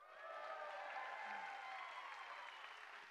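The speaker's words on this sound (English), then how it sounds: "Give yourself a big round of applause" An audience at Radio Bristol's Farm and Fun Time live show gives a round of applause, a soft, fairly distant wash of clapping that holds steady, with a faint tonal hum running beneath it.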